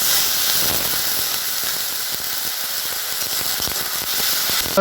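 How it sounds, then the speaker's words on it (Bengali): Ginger paste and water added to chicken sizzling in a pan for chicken do-pyaza, producing a loud, steady steam hiss with crackling pops throughout, close and without talk. "আর ওই সাথে দিয়ে দিচ্ছি একটু আদা বাটা বাকি ধরে জল"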